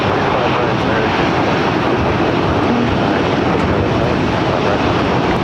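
An American Airlines airliner taking off from runway 25 right at LAX produces a loud, continuous jet roar that holds steady and close for the whole stretch.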